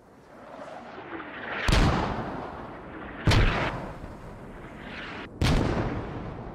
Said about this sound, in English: These rounds are spread out, probably engaging near max range for that mortar.